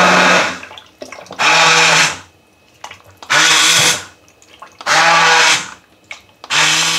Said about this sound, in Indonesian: sekarang tinggal saya blender aja